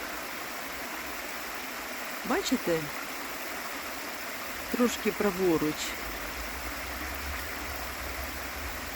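The Sinyak river in Zakarpattia, Ukraine, flowing near old bridge pier remains, a steady rushing wash of water throughout, with brief speech heard twice over it.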